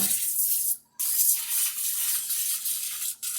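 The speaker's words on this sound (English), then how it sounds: "This is my canola oil spray bottle." A spray bottle of canola oil hisses in long bursts, with two brief pauses between sprays, close and fairly loud.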